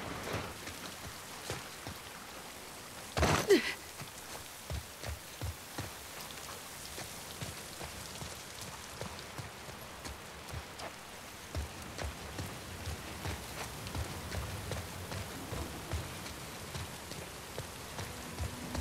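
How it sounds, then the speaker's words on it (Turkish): Continuous rain in The Last of Us Part II falls and patters, dense droplets tapping a surface, with a brief loud crackle near the start and scattered heavier drops. "Ne yağmur yağıyor be."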